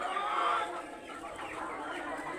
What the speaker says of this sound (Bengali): ওই যে কালো মুরগিটা দেখেন